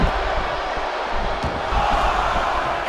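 Arena crowd noise in the WWE 2K24 wrestling game, a steady loud roar of cheering that swells slightly near the end as a wrestler fires up the fans.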